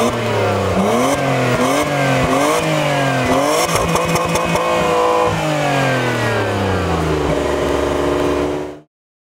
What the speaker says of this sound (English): Speaking of tailpipes, let's hear that exhaust roar.